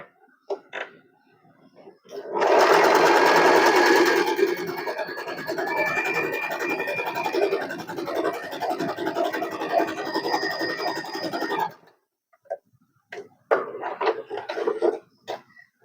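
An Usha Allure DLX sewing machine stitching: a steady, loud mechanical whir and rapid needle rattle running for about ten seconds, bracketed by quieter clicks and handling noises before and after.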